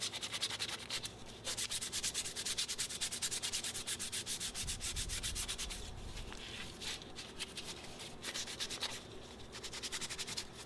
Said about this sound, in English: When sanding micarta, treat it just like wood and go progressively to finer grits.